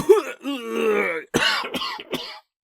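A voice imitates a spluttering cough, a few sharp throaty bursts close to the mic, with a short pause between them.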